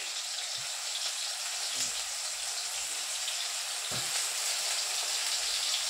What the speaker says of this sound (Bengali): তাই আমি এখানে কিছু বেগুন ভাজতে দিয়ে দেবো।